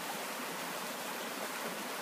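Steady rushing water from a waterfall and stream flowing past a riverside resort at Ban Pang Mung, Mae Korn, Chiang Rai, Thailand: continuous broadband roar, close and even, with no talk.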